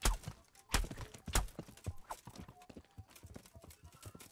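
Hollow clip-clop of a horse's hooves in an irregular gallop in the video game Kingdom Come: Deliverance, with a few louder thuds, close and clear, and no one talking.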